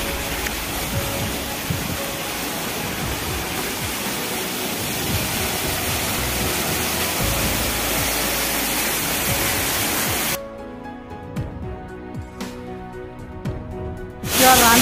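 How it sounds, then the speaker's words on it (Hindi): Rani Jharna waterfall near Korba roars as a steady, loud broadband rush of falling water for about ten seconds, then drops off sharply to quieter background with faint tonal sounds. "तो दोस्तों ये है रानी झरना, देख सकते हो कितना ऊंचा है ना।"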